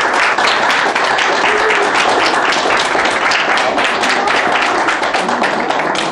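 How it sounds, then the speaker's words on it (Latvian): Loud, dense applause from a school quiz-competition audience greets a second-place team at a final, steady broadband clapping filling the room for several seconds without letup. "Aplausi!"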